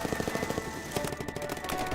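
Rapid machine gun fire bursts in a fast, dense rhythm with a brief pause partway through, loud and continuous against a background of battle noise.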